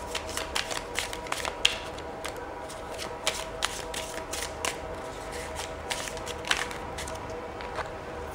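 Cards being shuffled and drawn during a card reading, a run of quick riffling flicks and soft slaps, close up and fairly quiet, with brief pauses between bursts.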